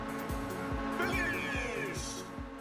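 Engine note of a race car climbing through gears on the final stretch in Ridge Racer Type 4, with repeated rising revs and shifts. Brief tire squeal sounds over steady game music, and a voice talks over it.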